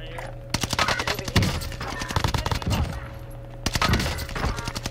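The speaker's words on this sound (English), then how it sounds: "This guy just keeps shooting?" Rapid bursts of automatic gunfire crackle in a shooter game, coming in several clustered volleys with short gaps between them, loud and close, with occasional thuds mixed in.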